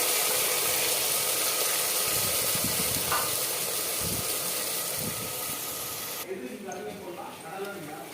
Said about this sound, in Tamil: இதோ பாருங்கள் நல்லா பேஸ்ட் வேகுது பாருங்கள்